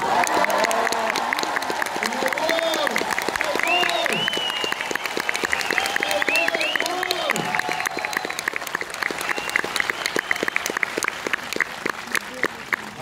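A cinema audience at a film premiere in France applauds and cheers loudly and continuously, a dense wall of clapping with whoops and shouts rising over it throughout.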